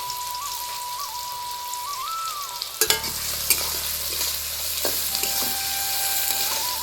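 Chopped onions drop into hot white oil for birista and set up a loud, steady sizzle with occasional stirring clatter. A quieter hiss comes before the onions go in.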